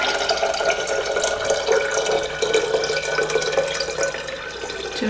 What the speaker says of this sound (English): Tall jar, about 2/3 of the way with water.